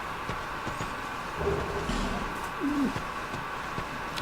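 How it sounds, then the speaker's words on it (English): A merchant in Dark Souls 2 lets out short bird-like cooing calls, two brief warbling phrases over a murky game ambience with faint background rumble. "if you listen to that vaguely awkward, not quite sensual bird noises, but it's in the realm of that, that's another merchant who can make boss weapons"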